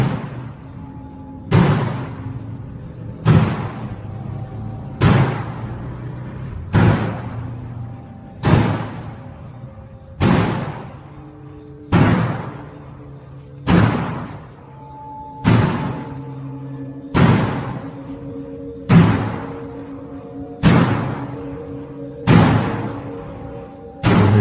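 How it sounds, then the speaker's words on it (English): A red door repeatedly opens and slams shut, about a dozen loud bangs at a steady pace, each followed by a short decay over a persistent high tone and low hum. "a red door that appears to be opening and slamming shut on its own"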